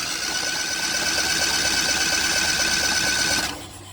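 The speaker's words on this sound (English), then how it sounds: "I'll crank it some more with the spark plugs out." A Honda N600 sedan engine, sitting outdoors for 16 years, cranks over with its spark plugs removed, a loud, steady, fast mechanical whir that runs for a few seconds before cutting off abruptly.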